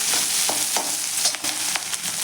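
Onion frying in oil on high flame for street-style soya chilli, with a bright, dense sizzle broken by several quick stirring scrapes, close and steady with no talk.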